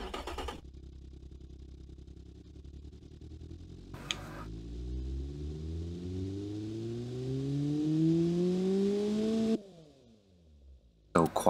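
A quiet car engine fitted with double reverse mufflers and a 44 mm exhaust in the Automation game hums low, then revs up in a long smooth rise before cutting off, with brief louder bursts at the start and end.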